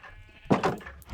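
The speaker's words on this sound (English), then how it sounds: "I've pinned up the rest of the sheep because I still haven't finished their spots on the factory wall." Sheep in Minecraft give a short, loud bleat made of two or three wavering pulses, with a fainter bleat at the end over a quiet background.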